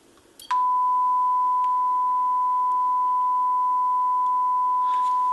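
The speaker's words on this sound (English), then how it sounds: "we're going to go ahead and feed in a frequency of 1000 hertz at about 3 volt RMS and see what it sounds like" A steady 1000 Hz sine test tone from a NuTone entry door speaker cone begins after a brief click and then holds at one constant pitch, loud and unbroken over a faint background hiss.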